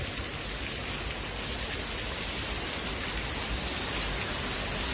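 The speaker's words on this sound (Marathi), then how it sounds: "सकाळपासून पाऊस पडतो" Continuous rain hisses evenly, a soft, broad wash of falling water that stays constant and fairly faint, with no talking.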